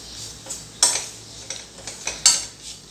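A spoon stirs a Kerala gooseberry (amla) pickle mixture in a pan, making a few light, sharp clinks and scrapes against the metal at irregular intervals over a faint background hiss.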